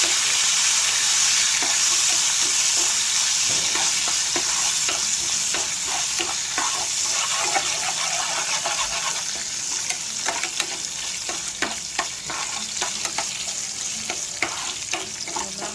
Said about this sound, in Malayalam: അത് നന്നായിട്ട് അതിനെ വറുത്തെടുക്കാം.